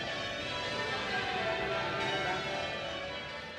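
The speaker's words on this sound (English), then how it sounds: "At Westminster Abbey, bells rang out for just under an hour" Church bells ring out at Westminster Abbey in a dense, sustained peal of overlapping tones that holds steady at moderate loudness without any voices.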